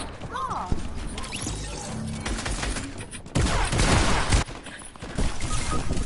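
Video game gunfire: bursts of shots and sharp crashing impacts, loud and close, running through most of the clip with a few brief voices underneath.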